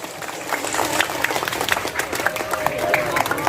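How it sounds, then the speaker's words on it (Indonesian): An audience at an Isra Mi'raj commemoration gathering in a Sundanese village claps steadily for the event organizers, a dense patter of many hands throughout the short stretch at even loudness. "Berikan tepuk tangan untuk para panitia di Kampung Muli."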